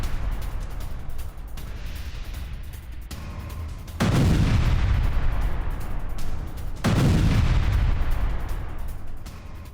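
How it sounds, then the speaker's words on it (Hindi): An Israeli airstrike bombs a Hezbollah weapons depot, with a steady roar of distant explosions and two heavy booming blasts that swell and slowly fade, loud and with no speech over them. "हिजबुल्लाह के हथियार गोदाम पर भीषण बमबारी की गई है"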